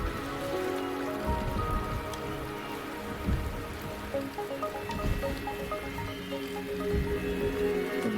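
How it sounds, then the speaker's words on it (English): Steady rainfall in the video game Wuthering Waves, a constant patter of drops on surfaces with soft music underneath throughout. "The rain is subsiding."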